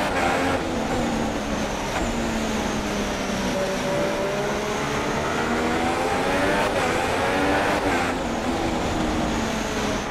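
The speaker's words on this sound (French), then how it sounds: "Raikkonen ici, la deuxième Ferrari" Ferrari Formula 1 car engine in the racing video game F1 2016, a loud continuous high-revving whine with pitch rising and falling through gear changes, alone without talk.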